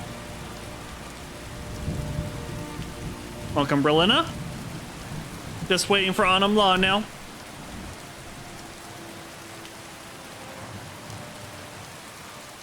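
Steady rain in the video game Skyrim falls throughout, a continuous hiss of drops on surfaces, while someone speaks briefly over it in two short bursts.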